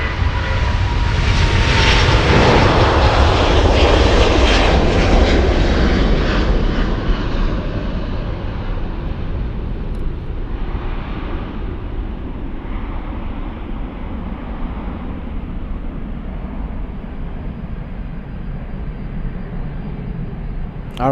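Departing aircraft at Munich Airport: a loud jet roar peaks early, then fades slowly as the plane climbs away, leaving a long diminishing rumble.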